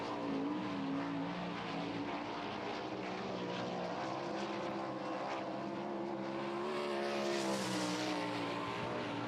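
A winged sprint car howls through a qualifying lap at Lakeside, a loud, sustained high-revving engine scream with steady pitched harmonics that swells briefly as it passes close.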